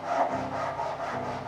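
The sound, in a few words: hand saw cutting wood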